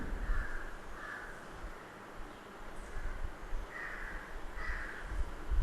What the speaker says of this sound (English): The sound of the crow, is it a noise or entertainment?